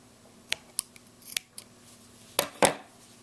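Scissors snip through crochet yarn after a slip stitch on a baby bootie, a handful of sharp close clicks spaced irregularly in a quiet room.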